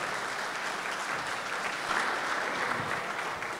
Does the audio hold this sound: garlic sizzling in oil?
no